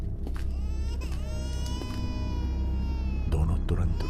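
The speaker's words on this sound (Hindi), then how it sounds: "यह किसी बच्चे के रोने की आवाज है।" A baby's wavering cry in an animated Hindi horror story rises and falls continuously over a low droning background, with a few sharp knocks near the end.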